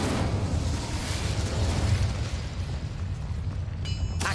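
In the video game Hogwarts Legacy, an Incendio fire spell is cast as a loud, rumbling, roaring burst that fills the clip, then thins out near the end, with no voices.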